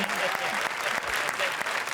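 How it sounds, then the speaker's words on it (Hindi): A comedy show audience breaks into brief, hearty applause, a dense burst of clapping with a faint voice murmuring underneath. "जोरदार तालियां शाने शकील के लिए."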